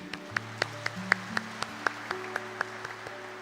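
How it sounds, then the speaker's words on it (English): During a priestly ordination ceremony in church, a few sparse, evenly spaced claps ring out over sustained organ-like chords, distinct individual hits rather than a full crowd roar. "Let us clap for Minoy's parents, please."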